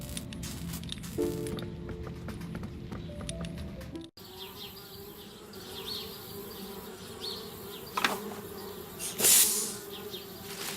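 Bees buzz in the Anna's Quest adventure game around a treehouse, a continuous droning hum at moderate level that shifts in pitch, joined near the end by a few brief louder effects.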